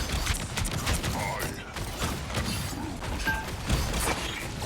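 A fireworks ultimate ability in the Marvel Rivals video game goes off in a rapid fusillade of crackling bursts and metallic clatter, mixed under excited talk and game noise.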